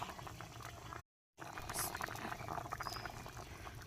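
Fried fish slips into a pan of simmering fish curry gravy, which bubbles and burbles softly up close, steady apart from one short silent gap, with no talking.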